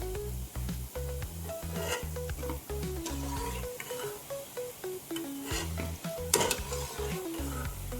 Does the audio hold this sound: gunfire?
no